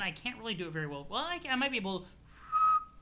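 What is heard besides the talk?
human whistling while breathing in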